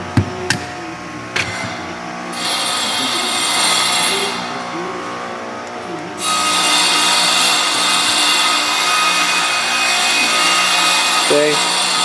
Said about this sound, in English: now we'll go ahead and punch this pin out